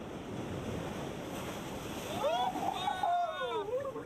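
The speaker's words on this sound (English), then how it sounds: "spending the night on the beach to the sound of the waves" Ocean surf washes steadily onto an island beach at night, a continuous rushing roar, with a wavering voice-like tone rising over it in the second half.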